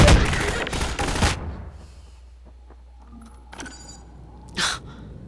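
Burst of close gunfire in Half-Life 2, followed by quieter mechanical clicks and clacks of the weapon reloading, then a short sharp sound near the end.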